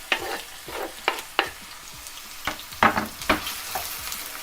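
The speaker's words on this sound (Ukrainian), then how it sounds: "І будемо смажити, поки Цибуля не стане прозорою" Chopped onions and garlic frying in a pan with a light sizzle, broken by a series of sharp scraping stirs at an irregular rhythm, close up with no talking.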